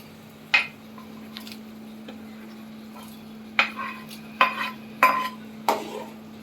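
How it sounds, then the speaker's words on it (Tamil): Paneer is stirred into a boiling gravy in a metal pot. About five sharp spoon scrapes land at uneven intervals over a steady low hum, close by and with no voices. "இப்போ இது நல்லா மிக்ஸ் பண்ணி விட்டுக்கோங்க. இதை நல்லா கொதிஞ்சு வரட்டும்."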